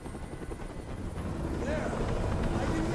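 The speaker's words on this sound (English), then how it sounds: "I can't stand that noise anymore. Tell that helicopter to get out of here." A helicopter hovers nearby in the Detroit: Become Human video game, its steady rotor drone growing a little louder and thicker toward the end, with a voice talking faintly underneath.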